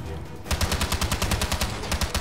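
Rapid automatic gunfire from an assault rifle in James Bond 007: Blood Stone erupts after a brief quiet moment, a fast steady string of loud shots.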